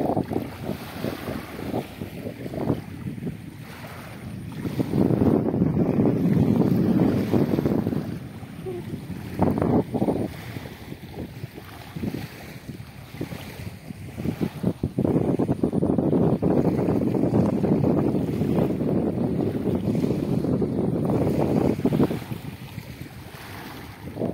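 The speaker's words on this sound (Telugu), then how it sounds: "ఇదంతా కూడా చూడండి, ఇక్కడ అలలు ఎలా వస్తున్నాయో" Wind buffets the microphone beside a vast, sea-like stretch of water. Waves surge in broad swells that rise and fall over about twenty-four seconds, with no one speaking.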